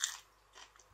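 A close, quiet bite into naem, Thai fermented pork, followed by a couple of soft crunchy chews in a short burst.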